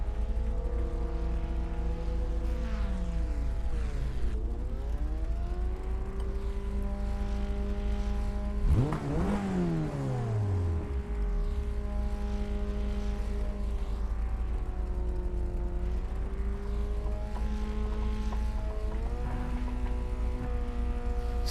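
Race car engines in iRacing, a steady high whine from the player's car with shifting revs and another car's engine swooping past loudly midway.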